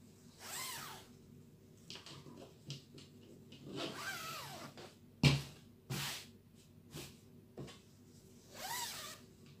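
A zipper on a homemade summer overlap dress is pulled several times in quick, rasping strokes, close and fairly loud, with short pauses between pulls and no talking.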